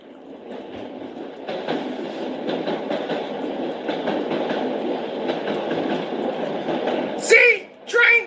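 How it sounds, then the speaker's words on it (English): Train passing by, a steady rumbling clatter of rail cars that holds for several seconds, with high wheel squeals near the end. "Train going back."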